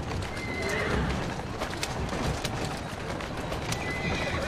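In Assassin's Creed Syndicate, a horse neighs and whinnies over the steady drum of galloping hooves, with clattering game sounds throughout.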